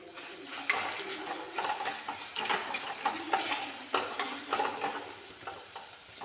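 Tamarind and ginger mixture for puli inchi is stirred and fried in a pan, giving a steady close sizzle broken by repeated scraping strokes of the spoon, with no voices.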